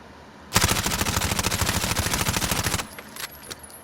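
Automatic gunfire in a video game, one long rapid burst of evenly spaced sharp shots for about two seconds, then a few faint scattered clicks and pops as it stops.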